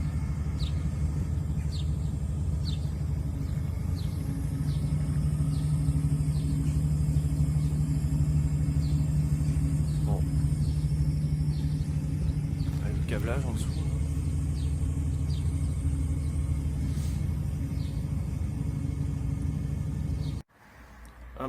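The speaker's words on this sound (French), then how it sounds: "Le camion groupe électrogène d'Enedis." An Enedis truck-mounted power generator runs during a power cut, giving a close, steady low droning hum with a faint repeating tick above it, until it cuts off abruptly near the end.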